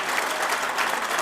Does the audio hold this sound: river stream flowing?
no